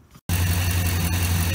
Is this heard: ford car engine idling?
yes